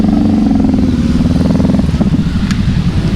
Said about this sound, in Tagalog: Mga adventure bike. Mga nagdadatingan yan.